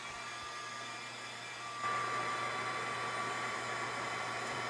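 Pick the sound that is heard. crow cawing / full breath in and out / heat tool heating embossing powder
heat tool heating embossing powder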